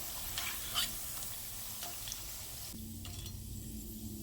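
Bitter gourd deep-fries in oil with a soft, steady sizzle, occasional stirring clinks in the first seconds, and a brief shift in tone near the end.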